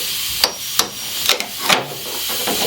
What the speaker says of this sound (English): We can just get in there with the chisel.